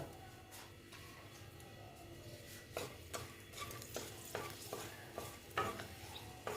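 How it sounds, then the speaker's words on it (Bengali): Dry red chilies frying in a little oil left from frying lentil dumplings, a quiet low sizzle broken by several sharp spatula scrapes and taps against the pan, close and faint. "দেখো শুকনো লঙ্কাটা ভেজে নিচ্ছি"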